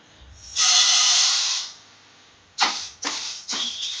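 A frying pan on a stove roasts sesame seeds and fenugreek: one long close hiss fades out, followed by three short, sharp bursts of sizzling.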